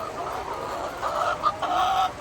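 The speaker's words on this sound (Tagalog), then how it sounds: "so check natin ang ating mga manok." Chickens in a poultry house make continuous overlapping clucks and murmurs, a dense flock sound close by without talking.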